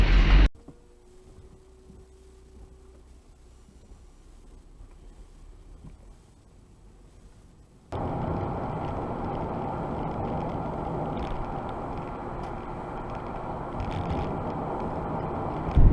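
Steady engine drone and road roar inside a moving car in third gear at 70 mph and 3,600 rpm, starting quietly and jumping to a loud, constant rumble halfway through.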